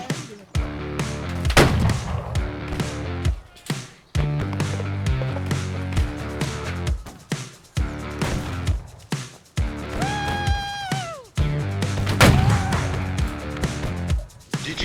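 Sharp bursts of gunfire crack through video game gameplay in irregular volleys, with a few louder isolated shots, all set against continuous loud tonal game music and effects.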